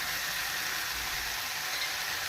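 Avarekai gojju ingredients fry in a pan with a steady, loud, hissing sizzle that continues unbroken, with no talking.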